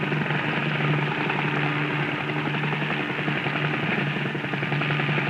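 A helicopter flies over wilderness while tracking moose, its rotor and engine drone loud, close and unbroken for five seconds, with no speech.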